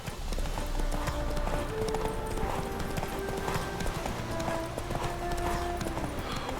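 A horse gallops in a race in the video game The Witcher 3, a fast, continuous clip-clop of hooves mixed with game music and tonal effects, with speech faintly in the background.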